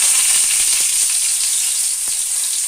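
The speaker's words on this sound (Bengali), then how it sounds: "এবার আমি তেলের মধ্যে গোটা গরম মশলা দিয়ে দেব" Whole garam masala and bay leaves sizzling loudly in hot oil in a kadai, a steady bright hiss with a few small pops, close and continuous with no talking.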